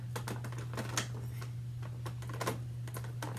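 Scissors snip through the plastic packaging of a NECA Godzilla 2019 toy figure in a series of quiet, sharp clicks spaced about half a second apart, over a low steady hum.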